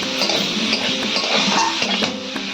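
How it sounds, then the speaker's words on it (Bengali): Already-fried potato and papaya are stir-fried in a pan, with a steady scraping and clinking of a spatula against the metal over a continuous sizzle, close and fairly loud, with no talking. "আলু পেঁপেটা এইরকম কষিয়ে নিচ্ছি।"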